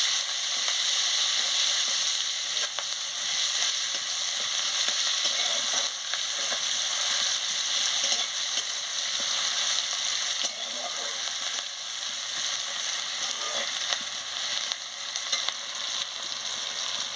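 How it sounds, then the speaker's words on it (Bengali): Chopped onion and green chilli fry in hot oil in a pan, the base for an aubergine, potato and tomato dish, giving a close, steady crackling sizzle that stays even from start to finish with no talk. "এবারে আমি পেঁয়াজ কুচি দিয়ে দিচ্ছি কাঁচা লঙ্কা দিয়ে দিচ্ছি পেঁয়াজটাকে ভালো করে ভেজে নিচ্ছি"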